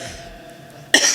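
A man gives one abrupt, harsh cough near the end after a moment of quiet room tone.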